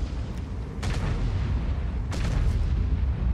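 Artillery shells in the World of Tanks video game strike near a wreck and stun an E-100 heavy tank: two loud, booming impacts about a second apart over a steady rumble of battle noise.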